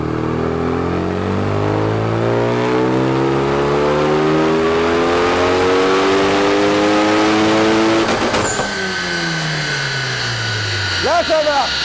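Loud Renault Megane 3 RS engine revving up and holding high rpm with rising harmonics for about eight seconds, then dropping off with crackling and a brief second blip near the end.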